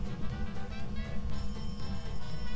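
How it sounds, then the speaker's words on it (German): A telephone rings inside the ghost-hunting video game Phasmophobia, a steady electronic ringing tone that continues without pause and stands out loud and close. "Oh, Telefon. Ich geh mal dran."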